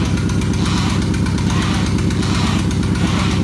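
A built Mazdaspeed 6 engine runs steadily on its first start, a loud, even idle with a throbbing low exhaust note, close by and alone without talk.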